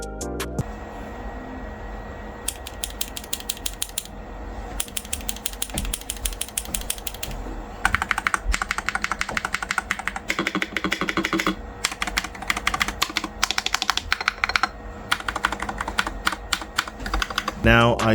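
Rapid, crisp keystrokes clatter on an AK680 MAX magnetic keyboard, at first in steady runs and then in denser, louder flurries, close and unbroken by speech.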